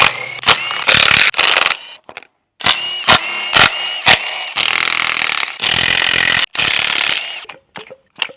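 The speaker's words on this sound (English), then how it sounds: "let's crack open this cam cover" Cam cover being lifted off a replacement Honda Jazz engine, giving a run of sharp metallic clicks, ratchet-like rattles and scraping bursts up close, separated by short pauses.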